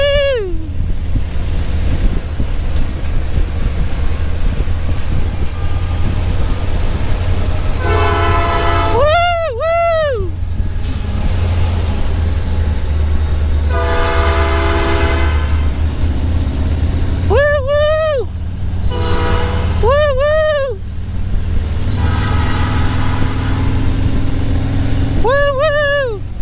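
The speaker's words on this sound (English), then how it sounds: "That's a choo-choo train." A train rumbles steadily through a small town in floodwater conditions while its horn blasts repeatedly in short and long bursts, loud and close over a constant low roar.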